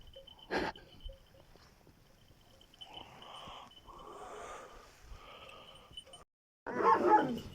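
A Kangal dog named Karabaş gives a sharp bark, then softer snorts and whimpers at close range, ending with a louder burst of vocal noise.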